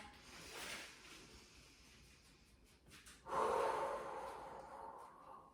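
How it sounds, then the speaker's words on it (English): Deep breaths during a workout warm-up: a soft inhale, a quiet pause, then a longer, louder exhale, close and audible with no talking. "Take a couple big inhales and exhales."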